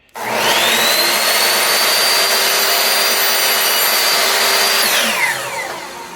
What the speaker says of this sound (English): I'm just going to cut them on my miter saw